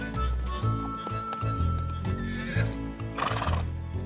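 Cartoon horse neighing and whinnying with clip-clopping hooves over bright background music, loud and close, with a prominent whinny near the end.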